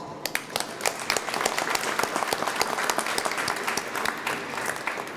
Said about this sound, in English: ask all of them to give themselves a round of applause